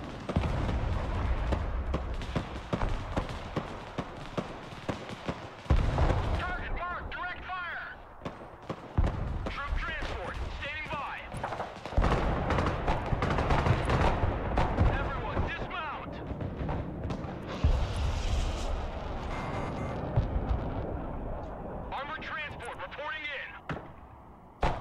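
Rocket artillery firing in the video game Broken Arrow: repeated deep booms and explosive blasts in uneven bursts over the whole stretch, with a voice talking throughout.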